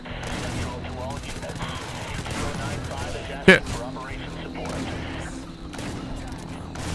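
Shotgun fire in the PC shooter Hatred: one loud, close blast stands out midway over a steady bed of game noise and scattered gunfire, with someone talking through much of it.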